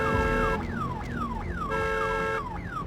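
Repeating electronic alarm siren from a vampire video game, a rising-and-falling wail sweeping down in steady cycles with a constant tonal drone beneath, loud and continuous with no talking.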